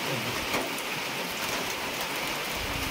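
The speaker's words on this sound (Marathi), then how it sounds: "पाऊस आधी नाही लागला आता लागतोय" Steady rain falls in a village, a dense, even hiss of drops on surfaces all around that holds at a constant level throughout, with no voices.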